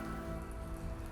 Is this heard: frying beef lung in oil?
no